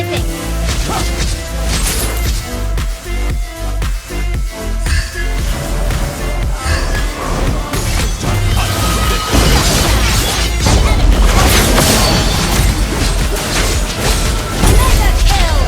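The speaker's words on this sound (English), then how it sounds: "Your team destroyed a turret!" A turret being destroyed in Mobile Legends, a dense run of crashes, booms and impact hits under loud game music and effects, with an announcer voice over the action.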